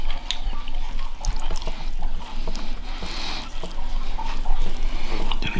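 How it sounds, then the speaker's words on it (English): Meat boiling in a pot while Somali food is cooked, giving a steady, close bubbling and sputtering with scattered small pops throughout. "See how the meat boil, right?"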